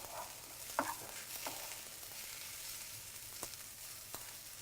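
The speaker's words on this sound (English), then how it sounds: "The spinach and the onion is sweating down." Spinach and onion sizzle softly in a hot pan, a quiet continuous frying hiss with a few brief stirring scrapes and clicks, no voices.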